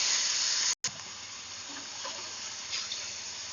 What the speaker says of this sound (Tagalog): Pagkagisa ng bawang sibuyas, lagay ko na po ito. Puset. Gigisa ko lang ng mga 1 minute.